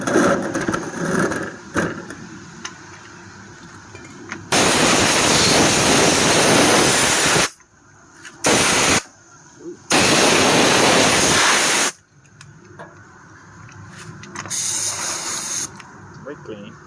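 Compressed air blasts dirt off Honda Aquatrax F12X/R12X jet ski engine parts during a timing chain and head job, in two long loud hissing bursts and a couple of short ones, with quieter workshop noise between.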